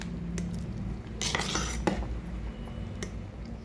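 A spoon stirs and scrapes moong dal payasam around the bottom of a pot, with close metallic clinks and a brief, louder scraping burst amid steady low kitchen hum.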